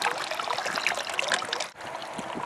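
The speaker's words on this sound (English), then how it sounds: "And that just turns the crank. And then we pump water." A homemade electric piston-type water pump, its crank driven by pulleys, pushes out water that gushes and splashes steadily and close up, with a brief dip near the end.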